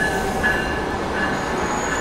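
An Amtrak Capitol Corridor passenger train, a five-car set, rolls past close by at Oakland Jack London Square station with a loud, continuous rumble of wheels on rails and a faint metallic squeal over it.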